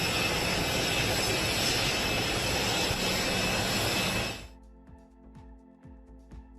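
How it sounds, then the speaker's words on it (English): A large airplane's engines make a loud, steady, close roar for several seconds, then cut off abruptly into a much quieter background with a few faint knocks. "It's quite a large plane."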